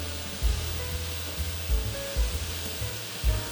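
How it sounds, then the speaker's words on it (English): Two pounds of ground pork frying in a wok over high heat, giving a steady close sizzle with soft stirring bumps and scrapes recurring throughout. "On a wok set to high heat, add about 2 pounds of ground pork."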